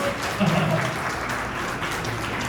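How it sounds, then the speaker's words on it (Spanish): A church congregation applauds during a service, a soft, steady patter of clapping at a distance with a voice briefly heard near the start. "Denme un aplauso al Señor."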